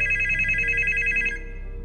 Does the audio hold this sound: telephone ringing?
yes